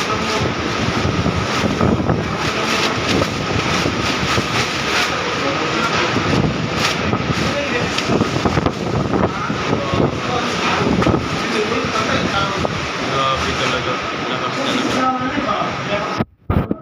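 Strong wind from Typhoon Odette in Cebu roars and buffets the microphone continuously, a dense, gusty rush of noise with rumbling low tones, loud from start to finish.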